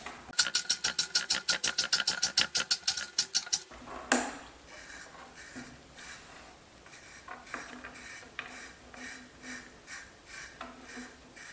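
A Cold Steel Pocket Bushman knife makes a quick run of about twenty evenly spaced test cuts, each a sharp, close stroke. Quieter scraping and handling noises follow.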